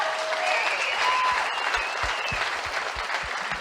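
Audience applause for first responders at a live comedy podcast taping, a dense, steady wash of clapping from a crowd lasting throughout, fairly loud and close, with a few scattered cheers.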